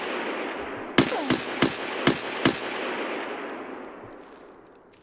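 Five sharp gunshots from Escape from Tarkov crack out in a quick irregular burst, loud against a steady background hiss that slowly fades afterward, with no talking.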